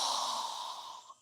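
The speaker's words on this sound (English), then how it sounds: "So go ahead and inhale." A deep, steady inhale during a yoga breathing exercise, one long airy draw of breath close to the mic that tapers off at the end, with no talking.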